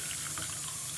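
Water draining off boiled cabbage, a brief close continuous pouring splash like running tap water, steady and without talk.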